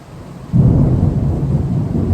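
Loud, close thunder during rain, a deep rumble that swells suddenly after a brief quieter moment and rolls on steadily to the end, with no voices.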